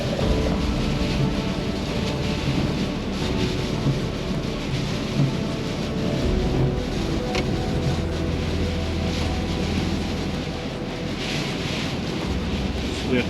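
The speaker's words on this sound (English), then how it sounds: "You can probably hear the wind is whipping by." Strong wind whipping past at the Applecross parking area during a storm, a loud continuous roar and buffeting against the microphone with no break.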